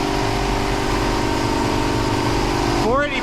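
A Hemi Plymouth Superbird engine runs on a dyno, a steady loud mechanical rumble at one speed, then a quick rising and falling rev near the end.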